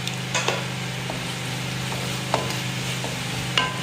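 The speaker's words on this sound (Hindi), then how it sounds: "मिक्स करेंगे इसको भी अच्छी तरीके से।" A utensil stirs a chilli chicken gravy mixture in a pan over a steady low sizzle, with occasional light scrapes and clinks against the pan and no talking.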